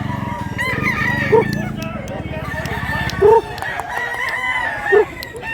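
A rooster crows three times at a steady pace, loud and close, at a poultry market in Mantalungon, Cebu, over a low background murmur of voices.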